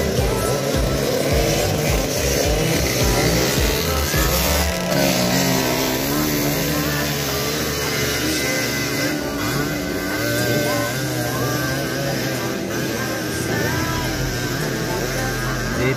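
Trail motorcycles in the Sikatuna challenge in Bohol drone and rev loudly and continuously, engine pitches rising and falling as they ride.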